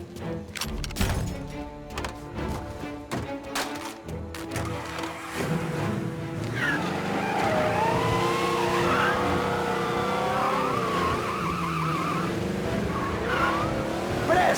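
Engine revs and tires squeal as a car is driven hard in Mafia: Definitive Edition, first through choppy gear changes and impacts, then a sustained loud roar with screeching skids.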